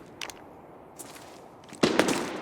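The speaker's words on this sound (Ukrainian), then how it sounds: "Хтось тут поруч стріляє. Мабуть, по нам." Gunfire close by in the video game Arena Breakout Infinite: a few sharp, short cracks early on, then a louder burst of shots near the end with a ringing tail, against quiet background noise.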